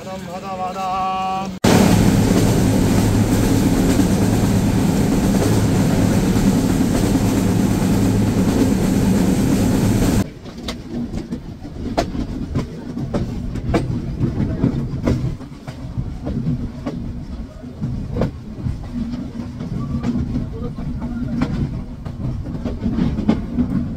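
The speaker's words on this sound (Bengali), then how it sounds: "এখনও প্রায় 25 মিনিট লেটে আমাদের ট্রেনটি চলছে।" Sundarban Express passenger train running late between Bangladeshi stations, a loud steady rumble and roar in the first stretch giving way to quieter rattling with faint clicks and voices over the rest.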